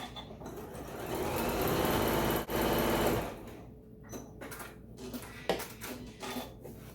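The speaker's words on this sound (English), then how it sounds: "you're going to stitch them together with a 1/4 inch seam allowance" A sewing machine runs in a steady, close burst stitching fabric strips together for a string quilt block with a quarter-inch seam, then stops, leaving scattered handling clicks and rustles.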